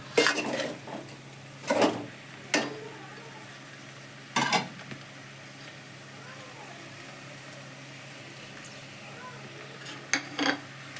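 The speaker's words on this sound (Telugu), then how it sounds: "మంచిగా కలుపుకుందాం" A spoon scrapes through a pan of Telangana-style mango egg curry as chili powder is stirred in, a few separate clinks and scrapes spaced over a quiet kitchen background.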